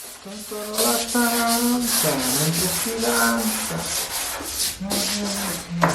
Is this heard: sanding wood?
yes